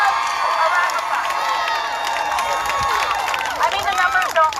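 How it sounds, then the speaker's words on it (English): A crowd at a rally breaks into applause and cheering, dense clapping mixed with whoops and shouted voices that swell toward the end. "So give yourselves a round of applause."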